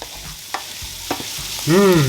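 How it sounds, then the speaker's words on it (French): Sautéed potatoes with chopped parsley being stirred in a frying pan, a few soft scrapes and clinks of the utensil over a low sizzle, ending in a louder, sharper scrape near the close. "on va mettre notre persil haché. Hop là, bien comme il faut. On remue bien."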